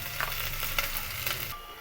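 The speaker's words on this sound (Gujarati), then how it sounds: "લસણ સતરાઈ ગયું છે એટલે તેની અંદર આપણે ટિંડોરા અને બટેકા નાખી દઈશું" Ivy gourd and potatoes drop into garlic frying in hot oil, giving a steady, close sizzle with a few soft stirring scrapes that fades in the last moments.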